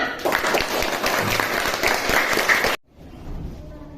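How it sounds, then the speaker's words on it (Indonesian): Classroom of students clapping for their group answers during a lesson, loud dense applause for about three seconds that cuts off abruptly, followed by quiet room murmur. "Tepuk tangan untuk kita semua."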